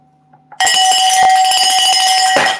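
Cowbell struck rapidly and loudly after a brief quiet start, a bright, metallic clanging run of hits lasting about two seconds before tailing off.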